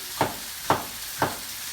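Red and green peppers stir-fried in a hot pan, with three evenly spaced scraping stirs cutting through a steady close sizzle.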